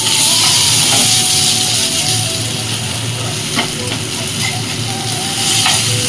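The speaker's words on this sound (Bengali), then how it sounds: "আলুটা ভাজা হয়ে গেলে তারপর ডিমটা দেবো" Loud, steady sizzling of potatoes frying in a pan close by, a constant hiss with faint scraping, and a thin whine weaving through.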